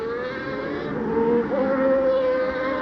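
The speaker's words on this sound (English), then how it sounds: "You can hear the engine note, boop, boop, boop, boop." A 1990 Formula 1 car's engine at Suzuka in Japan drones steadily as it bounces over the chicane curbs, its pitch wavering and rising slightly, heard from near the track.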